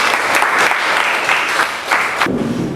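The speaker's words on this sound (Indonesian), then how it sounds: "terima kasih, tepuk tangan." Loud classroom applause in a physics lesson on fluid dynamics, rapid dense clapping from students in a small room that pulses in waves and stops abruptly before a voice begins.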